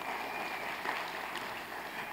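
An audience claps for a speaker's wife, Heather, at a talk, a soft, steady patter of applause heard at a distance throughout.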